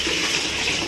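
Water being poured into a water cooler, a steady loud gushing splash that runs without a break for under a second, close by, with no talking.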